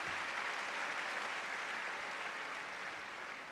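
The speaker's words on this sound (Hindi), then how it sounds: "उनके लिए तालियां।" Audience applause at a health product testimony gathering, steady dense clapping from a crowd that fills the whole stretch and fades slightly toward the end.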